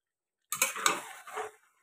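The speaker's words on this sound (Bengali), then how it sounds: "কড়াইটা খুব ছোট হয়েছে, তো এটা আমি কষিয়ে নিচ্ছি।" About one kilo of marinated mutton is stirred and fried in a small kadai with onion, ginger and garlic: roughly a second of close metallic scraping and clinking, with a soft sizzle underneath and no talking.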